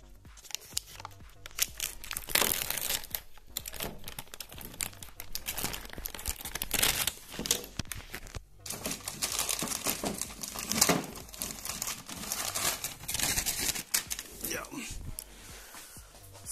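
New motorcycle air filter packaging for a Honda CBR 250 is cut open and pulled apart, with continuous loud crinkling and tearing of plastic close by and a voice speaking briefly.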